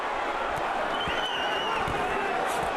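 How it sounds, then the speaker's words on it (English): Boxing arena crowd murmuring and stirring during the James Toney vs Peter heavyweight fight, a steady dense roar of many voices with scattered shouts and faint claps underneath. "Crowd getting riled up."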